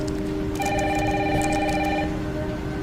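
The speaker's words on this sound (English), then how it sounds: "Mom, phone." A telephone rings inside a video game shown at Gamescom, a steady electronic trill that repeats for about a second and a half over a low rumble of rain and background noise.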